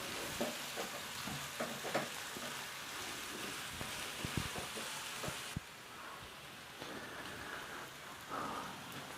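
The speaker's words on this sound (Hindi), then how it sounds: "मतलब हल्के से इसको फ्राई करना है" Onions fry lightly for chicken jalfrezi, a soft, steady hiss like light rain with scattered crackles and a few stirring knocks, fairly quiet, the sizzle easing slightly partway through, with no speech.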